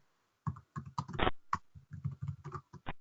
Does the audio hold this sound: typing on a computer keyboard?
yes